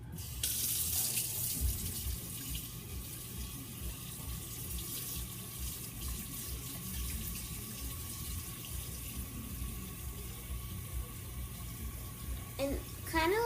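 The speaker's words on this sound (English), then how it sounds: "And then you're going to fill it up with water." Tap water runs steadily into a mixing bowl while making fudge brownies, a continuous splashing hiss lasting throughout, close and fairly loud, with a brief clink near the end.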